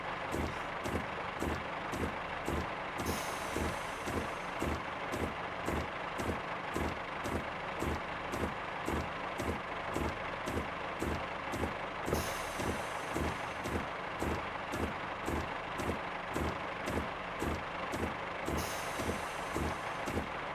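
Repeated air brake hiss and release cycles on a train in Train Simulator Classic on the Riviera Line, rhythmic pulsing throughout with short bursts of hissing every few seconds, fairly steady and close, no talking.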